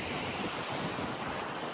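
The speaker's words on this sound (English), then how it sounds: "We are going to stop right where the waves are breaking because we will get wet." Ocean surf breaking on a beach on a camping trip, a steady broadband roar of waves with wind buffeting the microphone, heard close and continuous without any voices.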